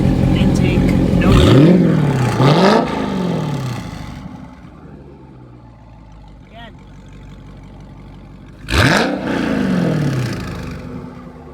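A car with a Corsa cat-back exhaust revs hard twice in quick succession, settles to a lower idle, then blips loudly again, close and prominent.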